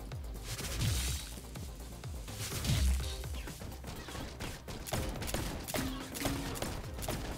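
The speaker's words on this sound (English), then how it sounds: "Oh yeah, my turrets are doing work now." Turrets in Wrack: Exoverse fire continuously at invading dinosaurs, a dense, loud stream of rapid shots and impacts mixed with crashing game effects, with heavier booms around the first and third seconds.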